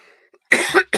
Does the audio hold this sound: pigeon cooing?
no